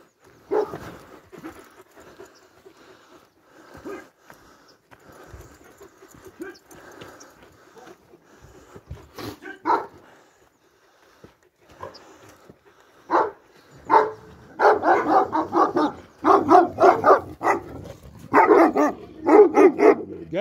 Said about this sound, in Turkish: köpeklerine bak